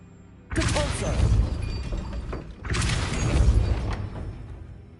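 Two forceful Depulso spell blasts in Hogwarts Legacy, each a loud booming burst with crashing, shattering debris that rumbles on for about two seconds, the second following closely after the first.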